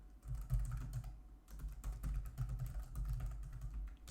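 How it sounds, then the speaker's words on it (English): Steady typing on a computer keyboard while entering an email address, a run of soft clicks over a low background hum, with one brief pause midway. "Maybe I'll type in my email here."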